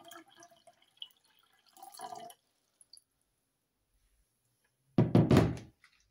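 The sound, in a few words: water poured into a vase with flowers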